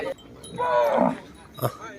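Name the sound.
cattle mooing at a cattle market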